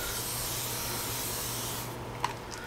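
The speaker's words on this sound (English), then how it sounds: "I'm going to spray" Spray bottle misting water over seed trays of newly sown seeds, a steady broadband hiss lasting about two seconds, close and alone, then stopping with faint small clicks.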